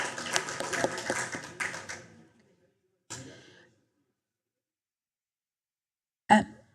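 Applause from the audience at a regular board meeting, a dense patter of clapping that fades out after about two seconds, followed by silence broken by a few brief scattered noises.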